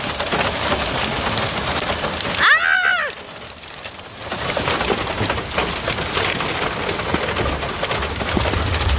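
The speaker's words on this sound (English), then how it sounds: "it's seriously hailing right now." Heavy hail clatters loudly and steadily on surfaces in Yellowstone, briefly interrupted by a short exclamation and a lull before the pounding resumes.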